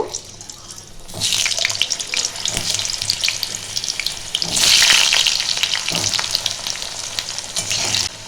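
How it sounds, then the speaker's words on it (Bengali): Two large potatoes frying in hot oil for khichuri, a loud steady sizzle that surges as they go in and stays dense and bright, with occasional stirring clinks and no talk. "তেলটা আমার গরম হবে। দুটো বড় সাইজে আলু নিয়েছিলাম, ওইগুলো ভেজে নেব।"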